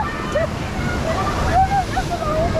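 Water splashes and sloshes from waterfalls on an Efteling theme park ride, a steady close wash of spray with no talk in it.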